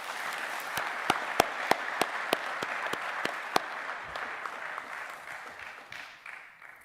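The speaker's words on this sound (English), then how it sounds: "Please give him a round of applause." Audience applause at a technical college commencement ceremony, a broad wash of clapping with several sharper individual claps standing out near the start, gradually thinning and fading away toward the end.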